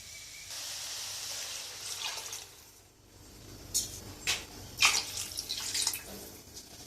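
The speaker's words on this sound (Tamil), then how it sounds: "எல்லாத்தையும் சேர்த்துட்டு இதுக்கு தேவையான தண்ணி ஊற்றிக்கலாம்." Water pours and splashes into a cooking pot for mutton liver and chest bone soup, a steady stream that pauses and then breaks into irregular splattering drips, close and moderately loud.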